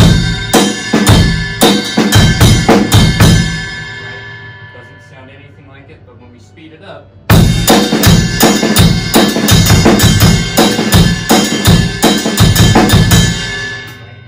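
A slow drum groove plays loud and close: steady bass drum hits with ride bell strikes, pausing briefly midway before resuming the same pattern.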